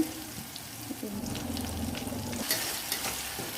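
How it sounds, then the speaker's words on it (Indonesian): Lemongrass and bay leaves sauté in oil for tempeh semur, a soft continuous sizzle with light stirring scrapes and faint watery clinks, fairly quiet and without speech. "ini kita tumis sampai harum ya"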